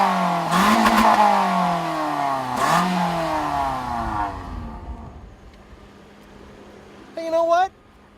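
A 2014 Toyota Corolla engine revs twice in quick sharp bursts, rising and falling, then dies away, with a brief higher mechanical whine near the end.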